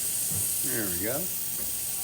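A Breville Barista espresso machine's steam wand hisses steadily as a close, even, airy rush, with a brief warbling tone rising and falling in the middle.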